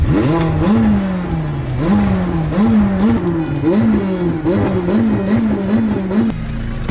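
A straight-piped McLaren 600LT engine revs repeatedly in a loud, close series of rising and falling blips, about eight pulses in a rhythmic pattern, before settling abruptly near the end.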